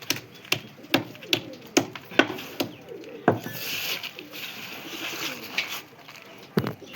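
Pigeons in a loft coo and flutter nearby, with soft repeated calls and a series of sharp taps and pecking clicks scattered throughout.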